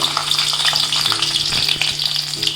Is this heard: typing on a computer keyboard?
no